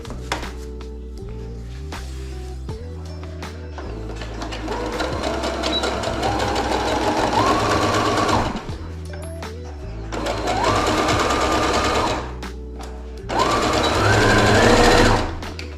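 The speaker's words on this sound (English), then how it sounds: "we're going to sew each of those corners across, and that is our last box corner" A sewing machine stitches across the box corners of a cushion cover for a van conversion, running in several bursts of fast rhythmic clatter that speed up and pause, close and clear with no talking.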